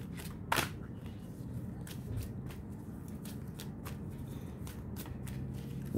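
Tarot cards being shuffled up close, a quiet run of rapid riffling flutters and soft slaps repeating across the stretch, with faint background hiss.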